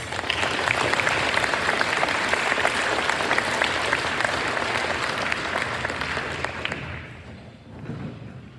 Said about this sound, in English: Can we please have another round of applause for these top performing members in their award-winning SAT projects?